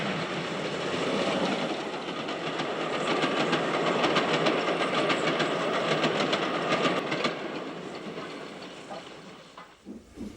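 A steam train roars past close by over water troughs at Langley, near Stevenage, in a sustained, rushing wash of noise with rapid rhythmic clatter, then fades away near the end.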